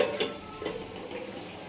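Meat being stirred and slow-fried for kosha in a pan, a continuous close sizzle with a few soft scrapes of the spoon against the pan, no voices.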